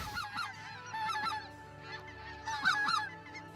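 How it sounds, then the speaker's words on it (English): An incoming flock of specklebelly geese calls overhead, a steady chorus of high yelping honks and cackles from many birds, fairly close and continuous across the few seconds. "And thousands of birds are coming in. And you watch them going around in a circle, and they're calling"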